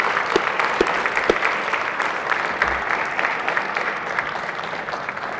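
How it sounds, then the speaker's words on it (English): Senate gallery audience claps during a floor session, a sustained crowd applause with a few sharper individual claps standing out near the start, moderately loud and continuous. "Audience, please give them a round of applause"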